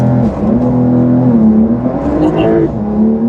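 A 2024 Porsche 911 Dakar pulls away hard under launch control, its engine a loud, continuous droning howl with a strong tonal whine rising and holding through the run.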